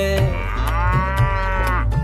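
A cow moos in a long, drawn-out call over a steady rhythmic music bed of a Hindi children's animal song, with light percussive hits recurring underneath.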